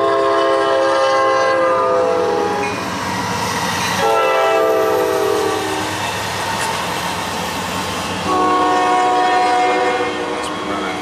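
Freight train led by an SD70 locomotive rolls past, its horn blaring in long loud blasts over the continuous rumble and clatter of the cars.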